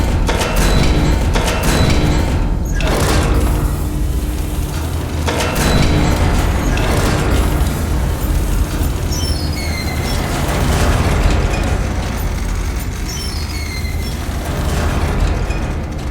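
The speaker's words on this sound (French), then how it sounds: "Un obus ici. Et un obus directement sur votre gueule." Artillery shells explode in the video game Iron Nest, a dense, continuous rumble of booms and bursts with sharp broadband blasts near the start and around the five-second mark, over a steady low mechanical drone.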